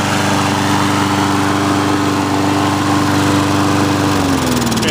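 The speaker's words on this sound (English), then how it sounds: "go ahead and shut the engine off" A Briggs & Stratton small engine with an auto choke runs at a steady, loud, buzzing drone, then is shut off near the end as its pitch sinks and the sound dies away.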